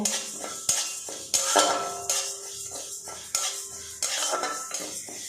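Mung dal is stirred and dry-roasted in a lightly heated wok, with a metal spoon scraping and clinking against the pan in repeated sharp strokes and a dry rustle of lentils between them. The sound is close and there is no talk.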